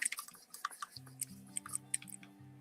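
A small brush is dipped in water while acrylic painting, making soft, quiet drips, taps and squishy swishes in a quick irregular series over faint sustained background tones.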